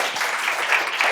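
Applause from a seminar audience after a real estate investing talk, a dense, steady patter of many hands clapping at even loudness with no voices.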